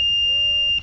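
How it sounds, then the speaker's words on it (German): A continuity tester beeping as its probe touches the ground ring of a 3.5 mm microphone jack: one steady, high electronic tone lasting nearly a second, then cutting off. "Wenn ich jetzt hier außen auf dem Ring gehe, dann müsste bei Ground eigentlich piepsen."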